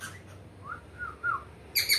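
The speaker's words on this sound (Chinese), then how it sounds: "小鸟。" Small bird chirping outdoors at a home in Pingtung, with a few short, moderately loud chirps spaced across about two seconds and a brighter burst of high calls near the end, heard alone without talk.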